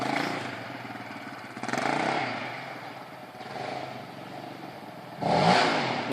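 Yamaha Raptor 700 ATV riding in the rain, its engine revving in uneven surges and blips with a sharp loud burst near the end as it pulls a wheelie, close and rough amid wet clatter.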